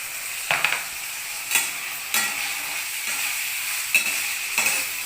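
Green peas and onion fry in a pan with a soft, continuous sizzle, broken by several sharp scraping stirs of a spatula at irregular intervals, close by and with no talking.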